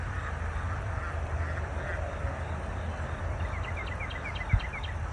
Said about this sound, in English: Look at those ducks.